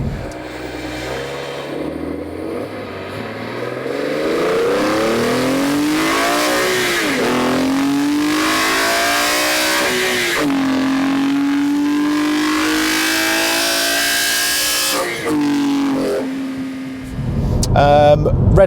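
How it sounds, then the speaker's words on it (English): A BMW E46 M3 CSL engine revs hard at full throttle, its pitch climbing and falling toward an 8,000 rpm redline through several loud, sustained surges before dropping off near the end. "when you go full throttle at high RPM, it opens a second inlet and it just sounds absolutely insane"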